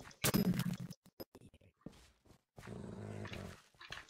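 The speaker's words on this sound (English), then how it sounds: "I hear a pup. I see a pup." A pup in the Minecraft Hypixel Zombies game lets out low, rumbling growls in several separate bursts. They stand out between other game noises, and one longer sustained snarl comes near the end.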